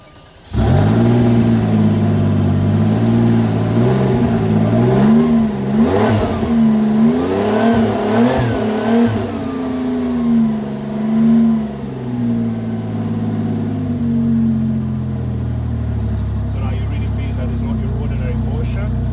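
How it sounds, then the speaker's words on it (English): A 1997 Porsche 911 Turbo, 480 hp, starts with a sudden loud roar and revs hard several times, its brutal exhaust rising and falling close by before settling into a steady, rumbling idle. "when you turn that key, because of the exhaust system on the car, it's absolutely brutal."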